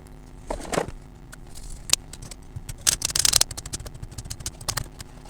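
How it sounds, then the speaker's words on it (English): Toothbrush scrubbing over a boat linkage just flushed with isopropyl alcohol: quiet, close scratchy bristle strokes in irregular bursts, with a denser run of scrubbing midway through. "I'll give it a scrub with a toothbrush"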